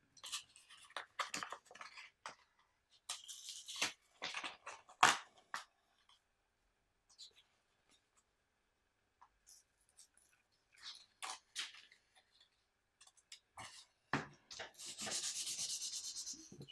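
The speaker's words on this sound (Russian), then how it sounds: "Понадобится наждачка 150, 240, 320 и масло-воск на финише." A plum wood butter knife being sanded with 150-grit sandpaper, close and dry, in bursts of raspy rubbing strokes separated by pauses, ending in a longer steady stretch of sanding.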